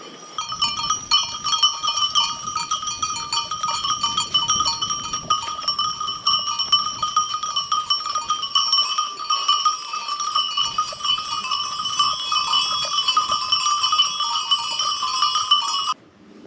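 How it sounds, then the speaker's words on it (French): Cows following hikers across a mountain pasture near Chaux-Neuve, their bells ringing in a steady, continuous jangle close by for the whole stretch, with no voices. "D'ailleurs, il y a les vaches qui nous suivent."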